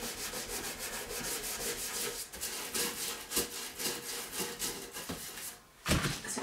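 Cloth rubbing grease and grime off a dining chair, a series of quick repeated wiping strokes with a scratchy, rhythmic texture, close and fairly quiet, with no talk.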